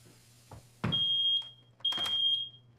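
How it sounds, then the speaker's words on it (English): A household smoke alarm chirps in two sharp, high, steady beeps, each about half a second long, separated by a short pause. The beeps are loud and close in a quiet room with a low hum underneath. "The smoke alarm!"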